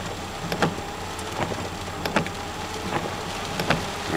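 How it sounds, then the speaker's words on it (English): Steady rain pours down during a flood, a continuous outdoor hiss with scattered louder drips and splashes standing out every second or so. "Anyway, it's still raining."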